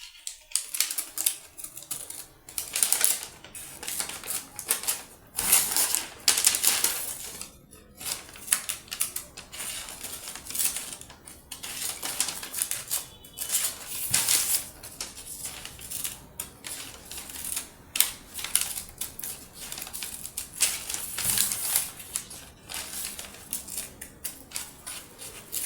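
Paper being snipped with scissors to line a cake pan, a steady run of quick close crisp cuts and rustling in uneven bursts with brief pauses, no talk.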